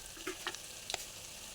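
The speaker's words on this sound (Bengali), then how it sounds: "যাতে মশলাটা ভালোভাবে ভাজা হয়" A spice mix of Kashmiri chilli powder, turmeric, sugar and salt sizzles faintly in a pan, with a steady hiss and a few scrapes of stirring.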